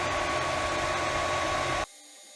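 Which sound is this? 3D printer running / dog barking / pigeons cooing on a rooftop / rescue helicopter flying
3D printer running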